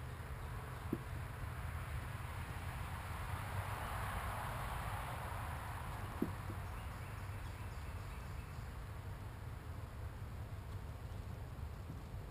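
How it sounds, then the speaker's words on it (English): Continuous low buzzing of honey bees close by while a package of bees is hived, steady and unbroken, with a couple of faint clicks. "there's some bees over here curious about what I'm doing"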